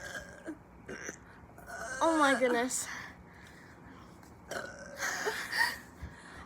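Several people burp loudly during a Sprite drinking challenge, with one long, prominent belch in the middle and more burps near the end, mixed with short exclamations and laughter-like talk.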